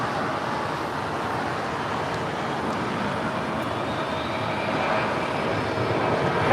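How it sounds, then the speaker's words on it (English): A Boeing 777 cargo jet departs, its engines a broad, steady roar heard from a distance that swells slightly toward the end, with no talk. "the big Q cargo, it's a 777 on our way back to Liege"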